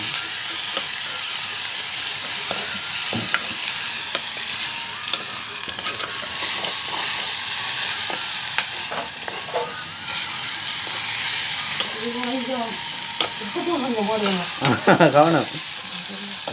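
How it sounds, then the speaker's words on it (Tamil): Tomatoes frying and being stirred in a pan give a steady sizzle with scraping stir sounds, while someone talks over it in the foreground. "தக்காளி பழத்தை ஃபுல்லாக பொரிக்கிறதோ"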